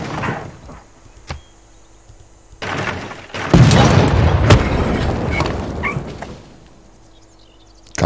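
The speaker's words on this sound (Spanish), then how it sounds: "Cañonazo." A cannon fires in the strategy game Civilization VI: a single heavy boom lands midway, and its loud, rumbling tail fades over a few seconds after quieter clunks and thuds.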